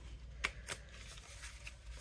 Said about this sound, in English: Let me shuffle these up a little bit.